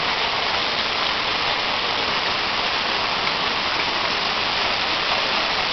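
Petousi waterfall at Polydroso in Souli, Greece, swollen with abundant mid-May water, roars as a dense, steady broadband rush, loud and close with no voices.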